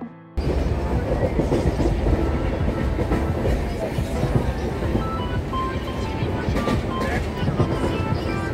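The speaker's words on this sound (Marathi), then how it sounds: "आता ट्रेन आली आहे खेडला" A passenger train pulling into Khed station on the Mumbai to Chiplun route, heard from inside as a loud continuous rumble with rattling wagons and clattering over the rails, steady throughout with faint background voices.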